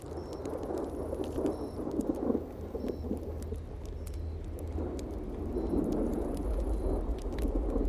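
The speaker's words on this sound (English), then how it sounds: "That first little roll of thunder." Distant thunder rumbles low and continuous under steady rainfall, the roll swelling slightly toward the end, with no voices present.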